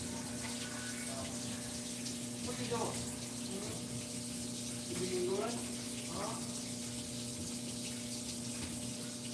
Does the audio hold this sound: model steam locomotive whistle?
no